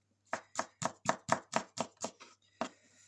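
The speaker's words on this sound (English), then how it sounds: "And with the garlic, again, I'll just slice it up pretty thinly, and actually it's probably best if I give it a bit of a mashing" A knife slices garlic cloves on a cutting board in a quick series of about ten crisp, close chops, evenly spaced, then one last chop after a short pause.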